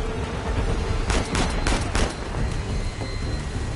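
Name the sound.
gunfire in video game Uncharted: The Lost Legacy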